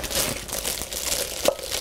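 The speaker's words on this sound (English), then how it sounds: "this is a Ziploc bag, putting that in the bowl" A Ziploc plastic bag crinkles and rustles steadily inside a stainless steel bowl during fish and seafood prep, a close, continuous papery crackle with one sharper crunch near the end.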